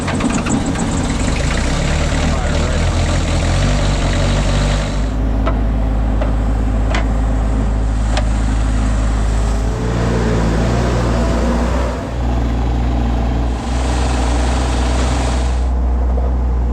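An old diesel engine, started after its glow plugs were held, idles with a loud, steady low rumble and knock throughout, running alone.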